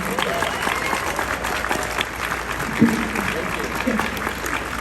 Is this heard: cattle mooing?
no